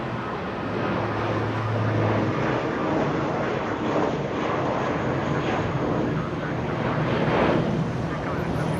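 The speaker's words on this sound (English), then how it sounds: "Looks like United. Looks like a little A320. Flying to San Francisco." A United Airlines A320 departing Los Angeles International Airport gives a steady, broad jet roar heard from a distance, with wind buffeting the microphone throughout.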